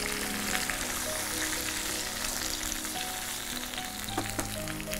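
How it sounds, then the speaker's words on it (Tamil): Chopped tomatoes frying in hot oil in a pan, a steady close sizzle that crackles evenly throughout with a few faint clinks, no voices. "இது தக்காளி நல்லா வதங்கணும்."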